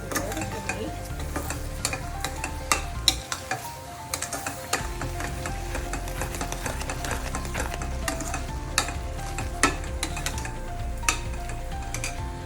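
A spoon stirs sugar into carrot halwa in a pan, giving steady scraping and clinking strokes over a low sizzle, with irregular sharp knocks, and no talking.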